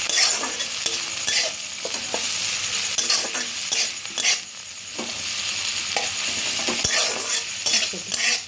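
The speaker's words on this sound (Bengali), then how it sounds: "পেঁয়াজটাকে আমি ভালো করে ভেজে নিচ্ছি" Chopped medium onion frying in oil in a pan, a bright continuous sizzle with regular spoon stirring and scraping strokes, close and fairly loud, with no talking.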